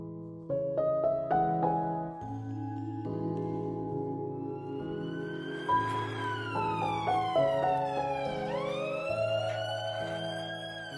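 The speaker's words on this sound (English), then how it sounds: "Are there always police sirens?" Police sirens wail through New York streets, several overlapping rising and falling tones sweeping up and down, moderately distant and continuous without any talking.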